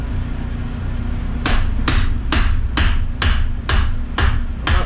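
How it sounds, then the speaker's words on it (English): Rubber hammer tapping the rear wheel of a 2012 Victory Vegas motorcycle, eight sharp, evenly spaced knocks close by over a low steady hum, with no talk. "Then take your rubber hammer."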